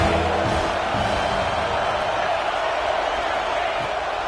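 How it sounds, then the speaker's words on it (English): Ohio State Buckeye football crowd roaring on third down, a dense, loud, continuous stadium roar of cheering with no breaks. "The Buckeye crowd alive on third down."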